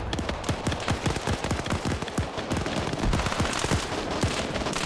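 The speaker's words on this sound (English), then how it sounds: "Machine gunner coming around with a 249." M249 machine gun fire in a shooter game, dense rapid bursts of loud close shots rattling continuously with barely a pause.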